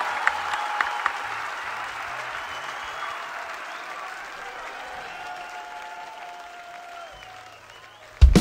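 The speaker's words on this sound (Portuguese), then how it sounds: "Pode ser as palmas bem em cima assim" A concert crowd applauds after a live Portuguese music show, a continuous wash of clapping that holds steady, then thins before a sudden loud thump at the very end.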